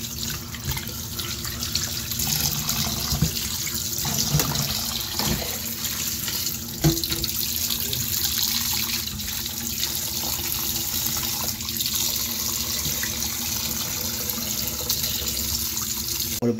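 Tap water runs continuously into a sink while fish and squid are prepared for a sour soup, a steady splashing gush with occasional clinks, close and fairly loud throughout.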